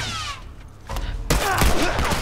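Gunfire in The Last of Us Part 2, played on a hard difficulty: after a quieter stretch, a loud burst of several shots and impacts erupts and continues to the end.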